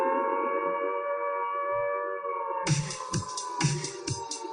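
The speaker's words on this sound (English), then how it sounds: "You never want to hear that siren," A recording of a civil defense siren plays, a sustained wailing tone that holds steady, with sharp noisy bursts and low thumps breaking in during its second half.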